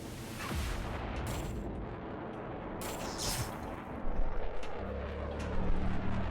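Missiles fired at a monster in a Godzilla vs Kong pinball game come across as a continuous rumbling barrage of booms and blasts, dense and moderately loud, with a low droning tone joining toward the end.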